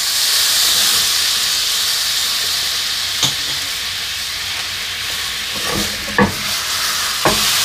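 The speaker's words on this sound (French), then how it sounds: "J'ajoute une cuillère à soupe de vinaigre balsamique." Balsamic vinegar goes into hot melting sugar in a pan and sets off a loud, steady hiss of steam and sizzling, with a few sharp clicks from a utensil.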